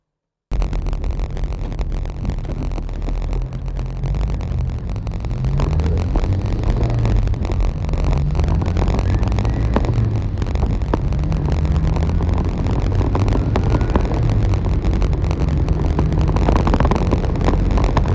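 A Subaru Sambar's small engine runs on a test drive, a loud continuous drone with shifting pitch as it revs and pulls. Wind rushes over the microphone throughout, and no one speaks.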